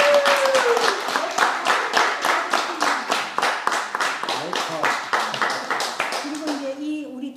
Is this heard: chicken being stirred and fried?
no